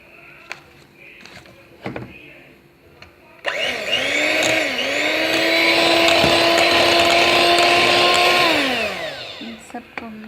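A kitchen blender whirs loudly and steadily for about five seconds, mixing oat flour cake batter with sugar and nuts, then winds down. Faint clicks and handling noises come before and after.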